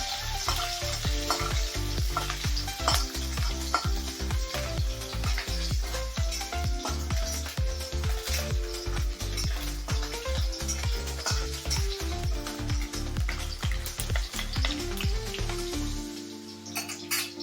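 Green chilies sizzle and roast in a hot pan while a spicy fenugreek-leaf stir-fry is cooked, a steady crackling frying noise running throughout under background music that cuts off near the end.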